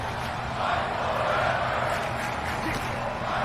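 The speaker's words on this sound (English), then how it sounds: "And you can hear the crowd" Arena crowd at an independent professional wrestling show cheering during a match, a steady, full roar of voices that swells slightly midway and continues without pause.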